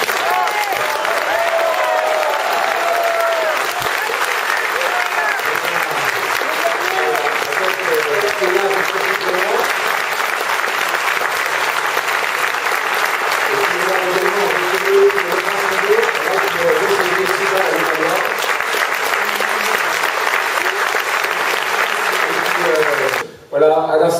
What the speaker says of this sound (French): qu'on applaudisse Arnaud de Courson qui se bat à Levallois.